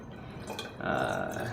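Cold water pours into a SodaStream carbonating bottle, a soft splashing trickle that turns into a steadier, fuller stream as the fill continues, close and with no talking.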